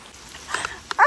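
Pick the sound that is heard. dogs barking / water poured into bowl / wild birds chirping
dogs barking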